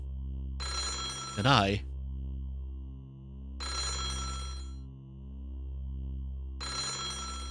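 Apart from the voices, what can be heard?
telephone ringing in mansion, from video game Otogirisō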